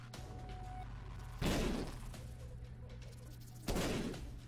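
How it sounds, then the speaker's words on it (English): Two bomb blasts in The Binding of Isaac go off roughly two seconds apart, each a loud burst that fades quickly over a low steady hum and a faint tone. "I guess I should explode those mushrooms"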